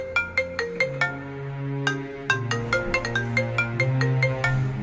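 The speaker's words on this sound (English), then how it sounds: "My phone, please." A mobile phone ringtone plays a bright, repeating melodic pattern of chiming notes, loud and close, with no talking over it.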